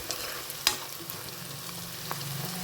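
Chopped onions frying in a pan until golden brown, a low steady sizzle with one sharp utensil clack near the start and faint stirring scrapes afterward, heard alone.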